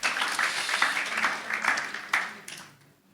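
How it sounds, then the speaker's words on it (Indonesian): A church congregation claps together in a dense burst of applause that fades away toward the end. "Tepuk tangan yuk bagi Tuhan Yesus saudara."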